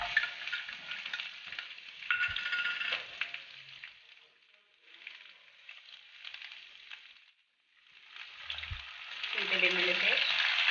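Ginger-garlic paste sizzles and spits in hot oil with mustard seeds, a steady bright frying hiss that swells and fades with stirring, a short lull near the middle, then louder crackling as ingredients are stirred in a pan.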